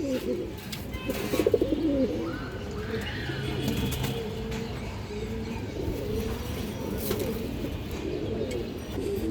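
Low, throaty coos from a silver khaki male pigeon repeat steadily at close range over a constant murmur of background noise, with no talking.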